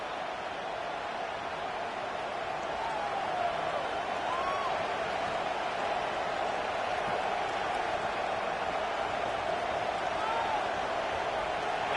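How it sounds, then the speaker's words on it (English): Crowd noise in a college football stadium for a Tennessee Volunteers game at kickoff, a steady dense roar filling the whole stretch, with a voice speaking faintly over it. "This crowd ready to make its presence known."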